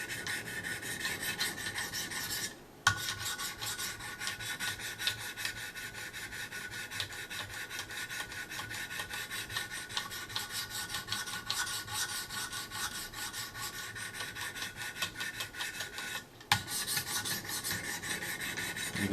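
A blade being honed on fine diamond stones in a Wicked Edge precision sharpener gives a steady, even rasping scrape that runs almost continuously, broken by two short pauses, close and fairly loud with no voices.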